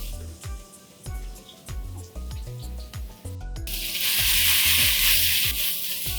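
Vegetables tipped all at once into hot oil already cooking ginger and garlic for soya Manchurian, bursting into a loud, bright sizzle that swells and holds steady, with stirring knocks and scrapes underneath and no talk.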